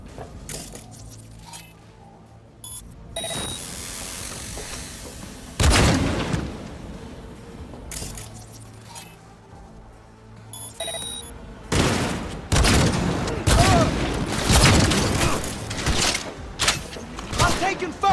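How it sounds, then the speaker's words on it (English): Gunfire in Cyberpunk 2077, repeated bursts of loud rapid shots that come in waves with quieter gaps and metallic clinks between, close and intense, with voices under the fighting. "I'm taking fire!"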